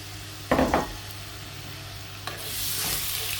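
Chopped tomato, onion, garlic and ginger frying in oil, with a soft steady sizzle broken by a few sharp scrapes and clanks of a stirring utensil against the pan, close by, swelling to a louder sizzle near the end.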